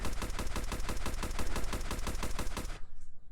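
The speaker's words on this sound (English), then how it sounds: "they're actually shooting at somebody" Rapid automatic gunfire from a Steam VR shooter game, a loud, steady stream of evenly spaced shots for nearly three seconds before cutting off abruptly into near silence.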